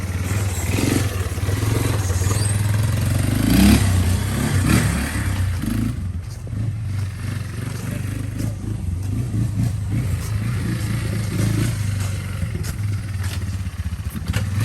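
A cheap fixed-up four-wheeler ATV runs through a test ride, its engine droning steadily with rough revving and clattering mechanical scrapes, loud and close throughout with no talk.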